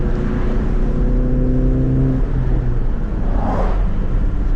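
Ford Mustang EcoBoost engine turning over under light throttle, a loud, steady low drone with a slight shift in pitch, heard from inside the car.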